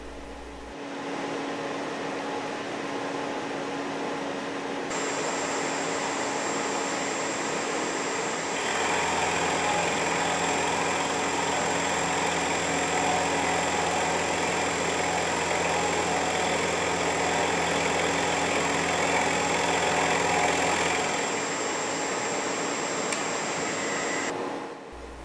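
A milling machine takes a light finishing pass in the climb direction, about ten thousandths deep, producing a loud, steady mechanical hum and whine that holds throughout with a brief change in pitch partway through.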